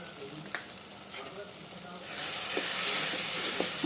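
Chopped vegetables with onions and curry leaves sizzle and fry in a pan for sambar, a steady hiss that swells louder in the second half with a few stirring clinks, no talk.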